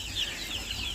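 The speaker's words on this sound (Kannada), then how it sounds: "ನಮ್ಮ ಕೋಳಿ ಮರಿಗಳು ನೋಡಿ ಇಲ್ಲಿ ಇಷ್ಟಪ್ಪ ಇದೆ" Native country chicks, about one and a half months old, on a nati chicken farm in Holenarasipura give a steady stream of high, thin peeping and soft clucking, close and continuous throughout.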